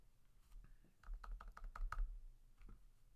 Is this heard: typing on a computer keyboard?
yes